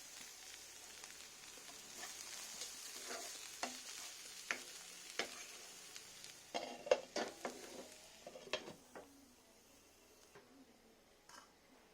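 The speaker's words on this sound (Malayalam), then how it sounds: "നന്നായി ഒന്ന് മിക്സ് ചെയ്തിട്ട് അടച്ചു വെച്ച് വേവിക്കാം" Chicken cutlet filling stirred and frying in a pan, a steady soft sizzle broken by scattered scraping clicks of the spoon against the metal, clustered near the middle and easing off toward the end, with no talk.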